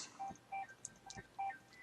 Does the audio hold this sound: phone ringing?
yes